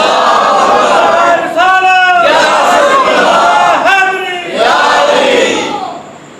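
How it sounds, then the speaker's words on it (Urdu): Crowd at a religious sermon shouting slogans in call-and-response bursts, with a loud collective roar around the middle and a second surge later, fading at the end. "اتنے نعرے آپ لگائے آپ نے"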